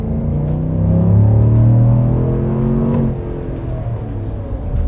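Pickup truck floored from a standstill while towing a trailer, either a Chevy Silverado 1500 with the 6.2L V8 or one with the 3.5L EcoBoost V6. A loud, close engine roar climbs steadily through the gears with a rising drone and no talk.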